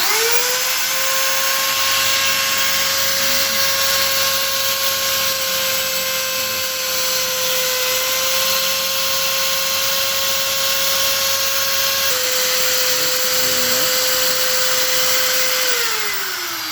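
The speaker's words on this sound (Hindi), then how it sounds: "मैं इस ड्रिल मशीन को चला रहा हूँ तो ये इसके अंदर ये चल रहा है।" Electric drill machine spinning a flexible drill extension, a loud steady whine held for about fifteen seconds, dipping slightly in pitch partway and winding down near the end.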